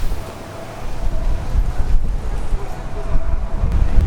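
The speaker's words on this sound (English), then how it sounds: "the winds in Vegas are like 40 to 60 mile per hour gusts" Strong 40 to 60 mph gusts in Las Vegas buffet the microphone in a rough, gusting roar, rising and falling, with a low rumble underneath.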